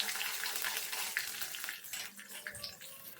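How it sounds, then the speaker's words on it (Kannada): Urad dal and chana dal with dried and green chillies frying in hot oil in a pan, a steady crackling sizzle at low level, with faint stirring and no speech. "1 ಸ್ಪೂನು ಉದ್ದಿನಬೇಳೆ, 1 ಸ್ಪೂನು ಕಡಲೆಬೇಳೆ ಹಾಕ್ಕೊಂಡು ಕಲರ್ ಚೇಂಜ್ ಆಗೋವರೆಗೂ ಫ್ರೈ ಮಾಡ್ಕೋಬೇಕು"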